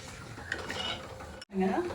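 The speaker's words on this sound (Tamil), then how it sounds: "ஒரு 2 நிமிஷம் கிண்டி விட்டுருவோம்" A thick sorghum and finger millet porridge is stirred in a pot, giving close, continuous scraping and thudding that breaks off briefly before resuming with a heavier, thicker churn.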